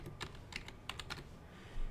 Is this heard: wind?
no